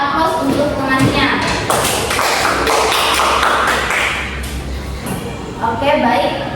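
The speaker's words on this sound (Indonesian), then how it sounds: "Berikan aplaus untuk temannya." Primary schoolchildren in a classroom clapping for a classmate, a loud burst of many hands applauding together, with voices mixed in.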